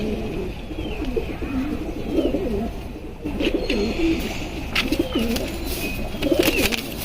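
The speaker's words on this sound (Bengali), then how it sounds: "কালো গলার বাঘা কবুতর দিয়ে করা" Male black-necked pigeons coo in repeated low, throaty phrases nearby in a home breeding loft, with faint chirps and rustling in the background.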